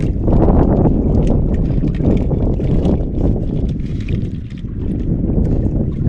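Strong wind buffets the microphone with a constant low roar, loud and steady throughout.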